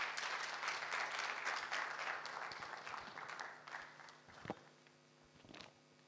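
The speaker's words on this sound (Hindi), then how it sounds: "आप तालियों से उनका स्वागत करें." An audience at a Hindi literature event applauds as an invited speaker comes to the stage. Fairly faint clapping starts full, then thins into scattered claps and a few footsteps before dying away.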